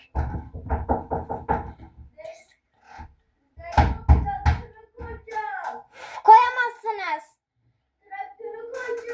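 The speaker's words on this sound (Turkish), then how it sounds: "Kapıyı çalıyorlar." A quick run of about five sharp knocks on a door, followed by children talking and calling out close by.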